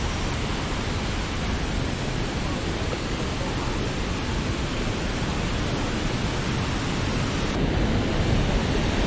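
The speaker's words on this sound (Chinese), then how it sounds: "离那个瀑布更加近。" Huangguoshu waterfall in Anshan, Guizhou, roaring from close by as a steady, dense wash of broadband noise with no breaks, loud and unvarying throughout.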